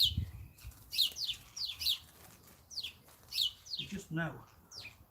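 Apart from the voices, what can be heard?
wild birds near freshly seeded ground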